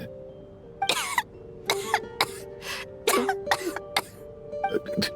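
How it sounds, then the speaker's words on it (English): A string of harsh, close coughs from a video game character comes in uneven bursts over a faint steady hum, each cough sharp and raspy. "How long have you had that cough"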